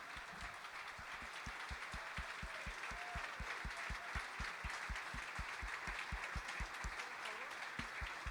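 A roomful of spectators applauds the players after a six-board simultaneous chess exhibition with Magnus Carlsen, the clapping steady and even throughout but soft and somewhat distant.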